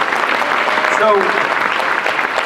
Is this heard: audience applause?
yes